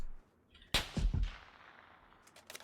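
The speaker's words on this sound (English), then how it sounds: "That sounded like 2 shots and, like, pretty rapid fire" Gunshots in a first-person video game: a sharp crack followed by a quick pair of heavier reports, fairly close, then a fading tail with faint clicks near the end.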